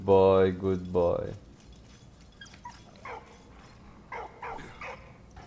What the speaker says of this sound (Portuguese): Ele tá latindo.